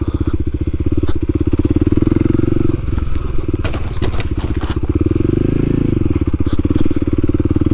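A Kawasaki KLX300 dual sport motorcycle ridden on a slippery grassy trail, with a loud, close, steady engine chug that rises briefly midway, plus some rustling and clatter.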